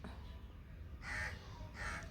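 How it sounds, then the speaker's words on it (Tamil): Two harsh crow caws ring out, spaced about a second apart, over faint background noise. "காக்கா கத்திகிட்டே இருக்குது எது கத்துதுன்னே தெரில"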